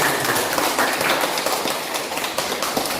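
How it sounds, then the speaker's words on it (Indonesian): A classroom of energetic children claps for themselves during a lesson, a dense, even patter of many small hands sustained for several seconds close by, with little talk over it. "Tepuk tangan untuk kalian."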